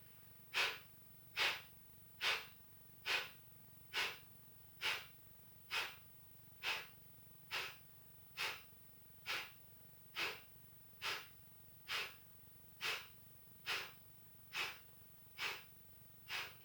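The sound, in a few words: deep inhales and long exhales during yoga breathing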